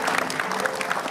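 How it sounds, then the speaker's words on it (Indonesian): A studio audience at an Indonesian TV talk show claps to welcome a guest, a dense, even burst of applause with no voices over it. "Tepuk tangan Selamat datang Mbak Ika"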